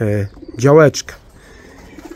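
Pigeons at a loft, with a deep throaty coo and fluttering bursts close by, alongside someone speaking briefly.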